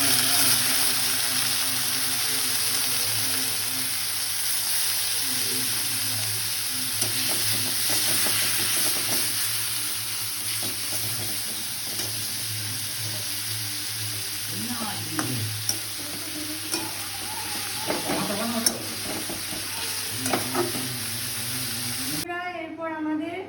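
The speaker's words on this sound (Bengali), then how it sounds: "তো এর মধ্যে আমরা যেটা আদা রসুনের পেস্ট করে রেখেছিলাম সেটা এর মধ্যে দিয়ে দেবো।" Onion and ginger-garlic paste fry in a pan with a steady, close sizzle, broken by repeated scraping stirs of a utensil against the pan. Background music or hum runs underneath throughout.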